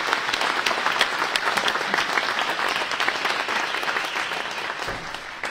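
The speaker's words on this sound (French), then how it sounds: "je vous demande d'applaudir mon personnel communal" An audience at a mayor's New Year greetings event gives a sustained round of applause for the municipal staff. Dense, even clapping continues throughout and fades slightly at the end.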